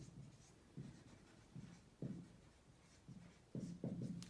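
Handwriting strokes of a sentence written out in a French grammar lesson, as a series of soft, close scratchy bursts coming in irregular groups with short pauses between them.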